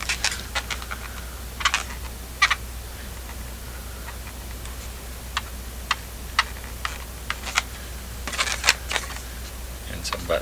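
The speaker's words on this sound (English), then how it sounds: "Let me go ahead and draw his face here." A marker drawing a face onto an inflated balloon snowman, heard as scattered short squeaks and taps spread irregularly over steady low room hum, close by, with no talking.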